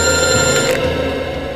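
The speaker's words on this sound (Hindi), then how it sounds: "हॉस्पिटल से फोन है।" An old-style telephone bell rings steadily and loudly in a Hindi crime drama, a sustained metallic ringing that fills the moment with no talking over it.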